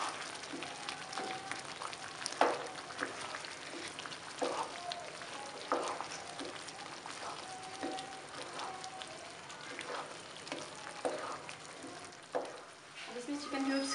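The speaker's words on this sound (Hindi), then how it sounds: "इन दोनों चीज़ों को हमने भून लेना है इसमें।" Ingredients for a chickpea curry frying in a pan, a soft, steady sizzle punctuated by repeated scraping stirs, fairly quiet and close, with a voice talking over it.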